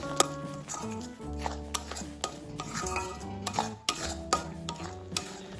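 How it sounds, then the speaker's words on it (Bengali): Green banana peel paste being worked together with spice powders in a pan, with a busy run of scraping and clinking spoon strokes against the metal. The strokes are close and steady, with no talk. "সবকিছু এবার ভালোভাবে মিশিয়ে নেব।"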